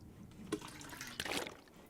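Water is collected in The Long Dark video game: faint trickling and splashing liquid with a couple of brief louder sloshes over a soft background hiss.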